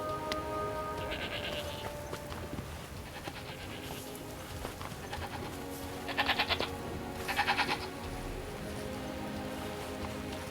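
Sheep in the video game Forspoken bleat in two clear bursts in the second half, over a steady ambient game soundscape with soft music and a rain-like wash.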